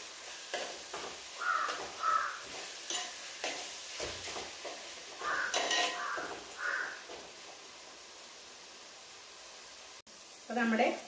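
A crow caws repeatedly in the background, several harsh calls in short bursts over a soft sizzle of tomatoes frying in a pan, with someone talking intermittently.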